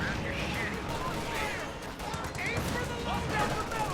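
Video game battle with anti-tank gun and rifle fire, a continuous stream of distant popping shots and thuds inside a dense wash of combat noise, with a voice talking over it.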